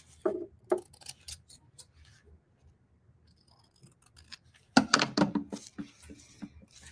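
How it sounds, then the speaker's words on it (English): Scissors snip through a paper napkin along a folded crease, a series of short crisp cuts close up with quiet pauses between them and a denser cluster of snips toward the end. "I'm just going to cut right along that little crease that I made."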